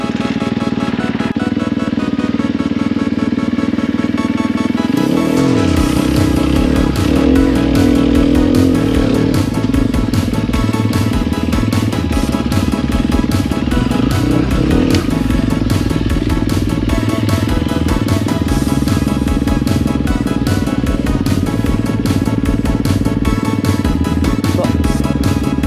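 An enduro motorcycle spins its rear wheel on a hill on a North Yorkshire dirt track. The engine is loud and close, jumping into hard, sustained revving after a few seconds and droning on steadily with clattering underneath.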